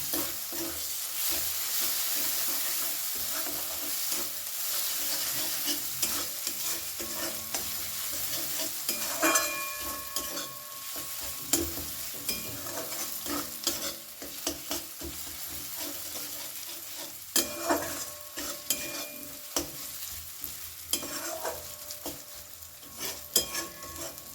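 Prawn bharta sizzles in a pan as sugar and lemon juice are stirred in, with a soft frying hiss under scraping strokes and occasional sharp clinks of the spoon against the pan.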